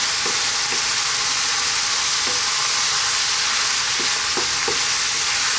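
Turmeric, coriander, chili and cumin fry in a pan with a loud, constant sizzle, while a spoon stirring them adds faint scraping knocks now and then.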